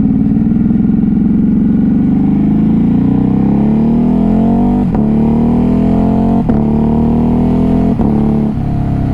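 A 2021 Ducati Hypermotard 950 RVE engine revs loudly and close up, its pitch climbing steadily before a few sharp quick-shifter auto-blip cuts punctuate the rising drone; no talking.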